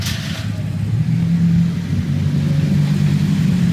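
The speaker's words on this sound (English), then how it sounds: "And here comes the trailer me and Dave just filled." A truck pulling a trailer full of West Virginia flood debris drives past, giving a loud, steady low engine rumble with a slight rise in pitch as it nears, and no voices.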